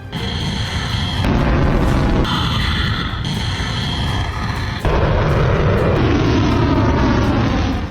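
Missile strikes in the Iran-Israel war explode in loud, heavy bursts, with a thick rumbling roar that cuts in and out abruptly as the blasts follow one another.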